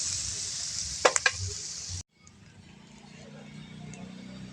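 Fish chutney ingredients sizzle loudly in a hot pan for about two seconds, with a few sharp clinks of a spoon against the pan. The sizzle then cuts off abruptly, leaving a quieter, low background.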